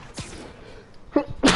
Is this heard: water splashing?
no